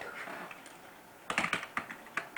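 Typing on a computer keyboard, soft scattered key presses at first, then a close burst of several distinct, crisp clicks in quick uneven succession, fairly quiet and alone without talk.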